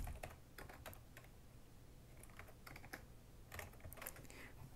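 Quiet, irregular clicking of fingers typing on a computer keyboard, keystrokes coming in short bursts and pauses over a faint background hum, with no talking.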